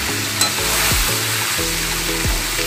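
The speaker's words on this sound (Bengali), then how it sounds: "এবার দিচ্ছি ঝিঙেটা। ঝিঙেটা আমি এখন দিচ্ছি।" Ridge gourd tossed into a hot pan, giving a loud continuous sizzle with a few periodic scraping stirs, close and alone without talk.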